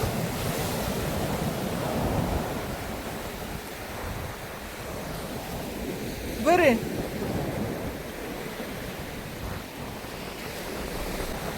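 Black Sea waves wash and roll under gusting wind at Langeron beach in Odesa, with rain, and a brief short spoken word partway through.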